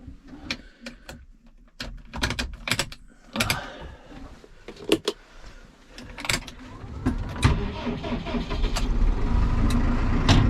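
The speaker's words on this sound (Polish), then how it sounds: "Ja odpalam ciągnik." A tractor engine starts and settles into a warming idle, its steady low rumble building and growing louder toward the end, after scattered clanks and knocks from farm work.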